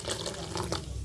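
Thick boiled milk, cooled after boiling, is poured into semiya sago payasam, giving a steady close liquid pour that runs unbroken for about a second.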